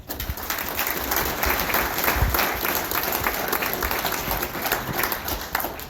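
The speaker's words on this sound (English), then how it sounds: "just one more round of applause for all the organizers, the Legion" Sustained audience applause rings out for the organizers at a first annual tournament held at a Legion hall, a dense, steady wash of many hands clapping at full volume for the whole stretch, with no talk over it.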